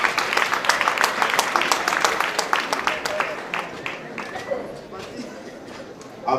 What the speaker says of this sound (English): I want to request the students to give the Executive Secretary a deserving round of applause.